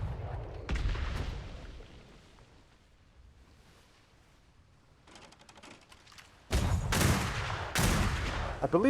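Broadside of a ship's port cannons in a pirate-era naval video game: a heavy gunfire boom opens, then after a lull two loud, close blasts land near the end, rumbling with a dense roar.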